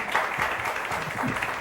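An audience at a political comedy roast claps for a senator, a brief burst of dense, steady applause filling a hall.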